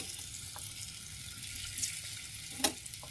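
Potatoes fry in hot oil with a faint, steady sizzle, broken once by a brief utensil clink near the end. No one speaks.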